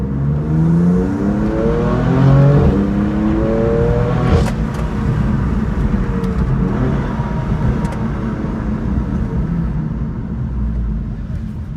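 A stripped-out, lightweight BMW M4 GTS sports car accelerates hard in one last squirt, its engine roaring loud and close as the pitch climbs through the gears, then settling into a steady drone.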